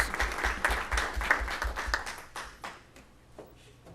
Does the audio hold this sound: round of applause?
yes